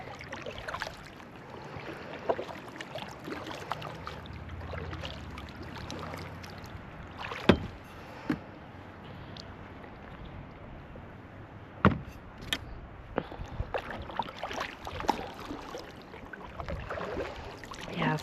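A kayak with a glide fin glides across calm water, with soft paddle dips and splashes plus a few sharper knocks against the hull, quiet and close, no talking.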